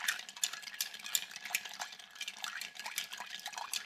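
Ice rattles and clinks steadily against a mixing glass as a bar spoon stirs a Toronto cocktail, a quick, even swirl of light chiming taps running throughout, close and fairly quiet.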